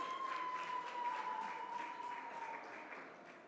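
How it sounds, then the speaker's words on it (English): A crowd applauds steadily at a debate competition grand final, a dense wash of clapping that slowly fades, with a faint sustained tone underneath. "But clap yourselves, you've been an amazing audience."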